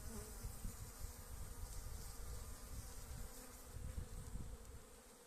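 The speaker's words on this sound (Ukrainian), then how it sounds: "бджола дуже активно літає" Steady, dense buzzing of many honeybees flying close by, a continuous drone with small swells and no voices.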